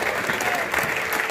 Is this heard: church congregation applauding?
yes